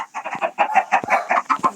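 Chickens clucking close by, a rapid series of short, loud, rhythmic clucks and squawks with brief gaps between them, no talking.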